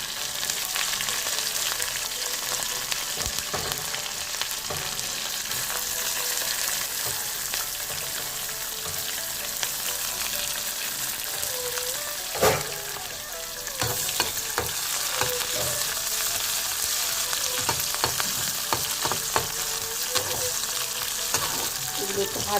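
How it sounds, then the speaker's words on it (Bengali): Chopped garlic, onion and two green chillies fry in hot oil for a mustard-greens dish, a steady close sizzle running throughout with occasional clicks and scrapes of stirring. "দুটো কাঁচা লঙ্কাও দিয়ে দিলাম ভাজা"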